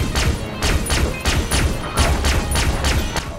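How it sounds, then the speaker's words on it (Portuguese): Machine gun fire in Far Cry 3 Blood Dragon: loud, close bursts of rapid shots in a rough, steady rhythm, about nine sharp cracks over a few seconds with booming low thuds, no talking. "Mas vamos pegar essa metralhadora aqui que... Ah, dane-se o stealth"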